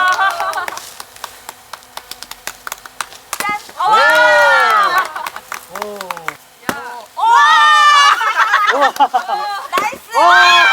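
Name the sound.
crowd applauding and cheering at firewood splitting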